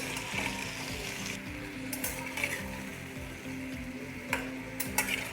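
Sweet potato slices fry in ghee over a low flame, a close, continuous sizzle broken by scraping clicks and stirring knocks as the pieces are turned, with no talking.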